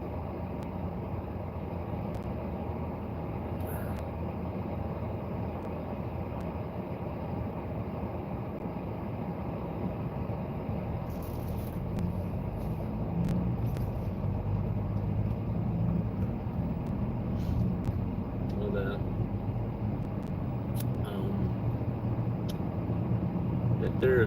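Cars, a couple of state police vehicles and a big truck pass by outside along a road, producing a steady broadband traffic rumble that swells slightly toward the end, with no foreground voices.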